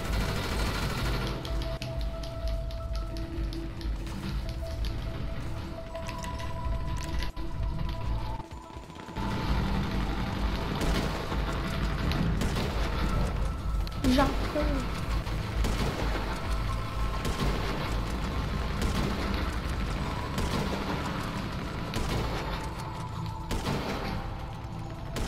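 Gunfire in GTA Online rattles in dense, continuous volleys mixed with booms and crashes throughout, a loud, busy game battle with no talk.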